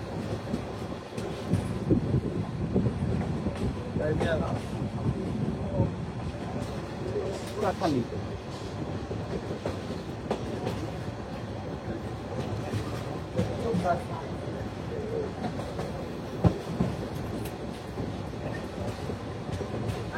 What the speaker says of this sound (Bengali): আমাদের ট্রেনটি এখন সেতু পূর্ব রেলওয়ে স্টেশন থ্রু পাস করে গেল।